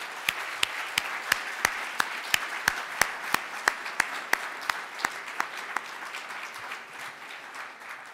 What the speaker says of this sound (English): So please join me in a round of applause for all of our remarkable guests.